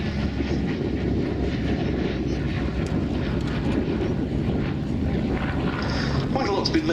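A Yak fighter plane flies at the Duxford airshow, its engine a continuous loud drone mixed with wind buffeting the microphone throughout.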